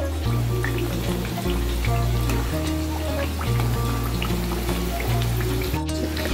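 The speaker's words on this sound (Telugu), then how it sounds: "వీటినైతే ఇంకా సేఫ్ ఫ్రై చేసుకుందాము" Wheat flour biscuits fry in hot oil with a steady, dense sizzle and crackle throughout, under a low background hum.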